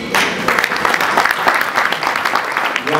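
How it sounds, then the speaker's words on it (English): An audience at a property investment conference in London applauds, a dense, steady burst of clapping from many hands that fills the room throughout. "Round of applause for Vanessa, please."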